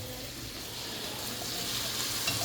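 Ground beef and vegetables frying in olive oil give a steady, fairly quiet sizzle that builds slightly over the short stretch, with no talking.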